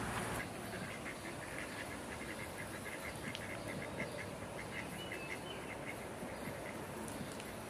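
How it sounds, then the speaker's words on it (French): Ducks at an arboretum in Saint-Martin-de-Crau quack repeatedly, faint and somewhat distant, over a quiet outdoor background. "il y a beaucoup de canards"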